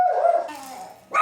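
A pet dog at home gives a single close, drawn-out bark that slides down into a whiny yelp, with another short yip starting at the end.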